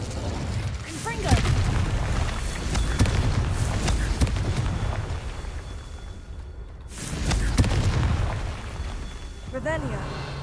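Spell explosions from Confringo cast in the Hogwarts Legacy video game, deep booming bursts that recur over a dense, continuous game soundscape with music and effects throughout.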